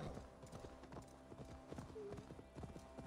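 A horse in the Assassin's Creed Valhalla video game gallops with steady, rapid hoofbeats that stay close and prominent throughout, with a faint whinny partway through.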